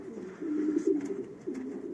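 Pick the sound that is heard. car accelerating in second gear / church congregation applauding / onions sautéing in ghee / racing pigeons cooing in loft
racing pigeons cooing in loft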